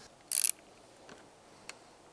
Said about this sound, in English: You loosen the top nut.